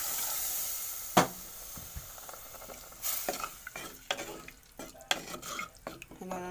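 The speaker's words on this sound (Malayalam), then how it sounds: "അപ്പോൾ നമുക്ക് കുറച്ച് വെള്ളം ഒഴിച്ച് കൊടുക്കാം." Water hits tomatoes and onions frying in a pan, setting off a soft sizzle broken by scattered clinks and stirring sounds; the whole is fairly quiet and close.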